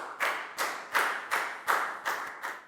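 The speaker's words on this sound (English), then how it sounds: "Big round of applause for Nadia," A small classroom group claps for a pupil in a slow, even rhythm of about seven distinct claps, moderately close and fairly quiet.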